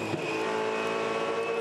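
A Supercars race car powers through turn eight at the Adelaide street circuit, its engine holding a loud, steady high-pitched howl at full throttle, with no voices.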